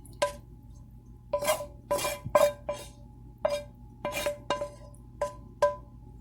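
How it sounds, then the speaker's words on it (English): Sausage dropped into a cast iron pan lands in a series of close, distinct clunks and clatters, about nine separate impacts spread irregularly over a few seconds, with no voices. "So I'm just going to put all of the sausage"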